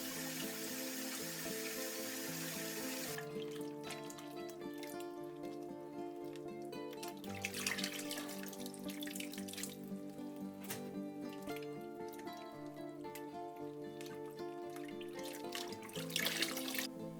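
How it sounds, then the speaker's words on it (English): Running water pours and splashes as salted napa cabbage for kimchi is rinsed under it, with shifting gurgles and a few louder sloshes, while soft music plays underneath. "rinse them in water to remove the salt"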